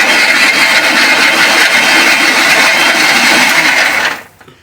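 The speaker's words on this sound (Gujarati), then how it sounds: "હવે આપણે મિક્સર ચાલુ કરીશું." An electric mixer grinder whirs loudly and steadily while blending a papaya shake with almonds, cashews and sugar, then cuts off abruptly near the end.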